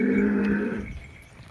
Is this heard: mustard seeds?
no